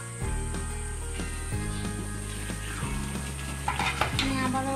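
A whole chicken cooking as murg musallam in a large covered pan, with a steady close sizzle and repeated metallic scrapes and clinks of stirring and lid handling over a constant low kitchen hum.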